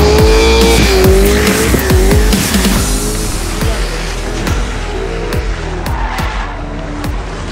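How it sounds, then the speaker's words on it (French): A Nissan Skyline drift car sliding sideways in a top-32 battle at a French drift championship round, engine roaring loud and close with rising and falling revs under a continuous harsh tire squeal and skid. "Et c'est une victoire de Jérémy Mérires au volant de sa Nissan Skyline."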